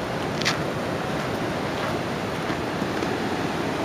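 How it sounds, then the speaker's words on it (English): Crashing ocean surf at the rocky, boulder-strewn shore of the Cape of Good Hope, South Africa, a steady broadband roar with some wind buffeting the microphone and no talk. "I'm gonna walk a little closer to crashing waves."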